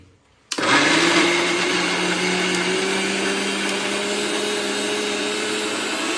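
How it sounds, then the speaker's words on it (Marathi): A mixer grinder starts abruptly and runs loud and steady with a high whirring motor drone, blending peeled, cut mango pieces into a paste for aamras, continuous without pause to the end. "मिक्सरमध्ये आपण त्याला आंबे टाकलेले आहेत कापून सरी बारीक सोलले आहेत पहिल्यांदा साल साईडला काढली चला आता आपण पहिल्यांदा पेस्ट करून घेऊ"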